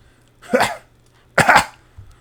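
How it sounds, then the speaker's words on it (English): Two harsh coughs from a video game character, about a second apart, close and fairly loud, followed by a faint rasp of breath. "He coughs."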